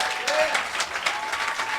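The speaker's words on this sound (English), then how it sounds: "So give them a round of applause." Scattered clapping from a small audience comes in quick uneven bursts at moderate level, filling the short stretch with no talk heard.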